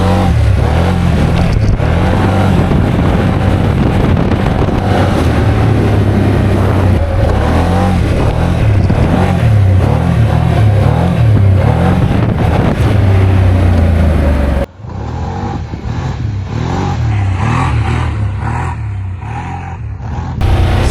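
A 2025 Can-Am Outlander XMR 850 ATV on a woods trail, its engine loud and close, revving and surging in waves, then dropping abruptly into a quieter, rougher stretch before building again.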